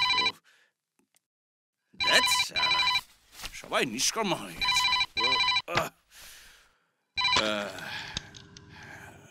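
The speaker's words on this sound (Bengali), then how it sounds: "উফ, আরে কে কোথায় আছিস? এসে ফোনটা ধর।" A telephone rings in repeated bursts, its bell tones alternating with a man's exasperated muttering and sighs between rings.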